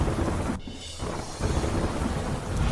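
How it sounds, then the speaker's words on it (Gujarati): Heavy downpour with thunder over an expressway near Vadodara, a dense steady roar of rain with low rumbling throughout, briefly dipping before swelling back at full strength. "વડોદરા એક્સપ્રેસ હાઈવે પર ધોધમાર વરસાદ"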